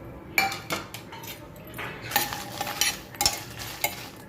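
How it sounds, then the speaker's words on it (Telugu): Whole spices being dry-roasted and stirred in a pan for moringa-leaf kandipodi, with repeated scraping and clinking of a spoon against the metal pan and a soft sizzle underneath, close and steady. "పోపు దినుసులు నేను అన్నీ ఒకసారి వేయిస్తున్నాను"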